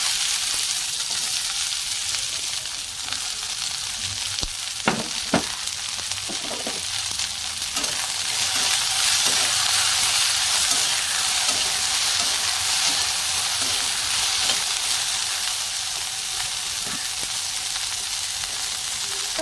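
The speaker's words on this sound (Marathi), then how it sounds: "मोहरी आणि थोडेसे जिरे हे छान तडकू द्यायचे. आणि मग लगेचच त्यात भेंडी घालून द्यायची." Mustard seeds and cumin crackle in hot oil before okra goes in: a loud, continuous sizzle carries on for nearly twenty seconds, with sharp pops and spatters breaking through in a cluster partway through.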